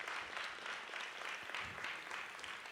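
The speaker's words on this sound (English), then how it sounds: "a round of applause for Maestro Booth and Deirdre Dawkins." Audience at a teacher awards ceremony in Baltimore applauds, a steady, even wash of many hands clapping, fairly faint and distant in a large hall.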